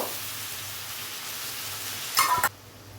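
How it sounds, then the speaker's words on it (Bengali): Sliced onions fry in hot oil for a Bengali egg posto dish, a steady low sizzle that swells briefly into a louder crackling burst near the end before dropping away. "এবারে পেঁয়াজগুলোকে ভেজে নেব"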